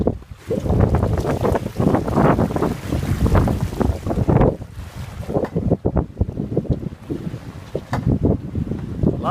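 A sailboat under way in gusty wind, with buffeting wind noise on the microphone, water sloshing and splashing against the hull, and loud, continuous rushing that rises and falls over about nine seconds.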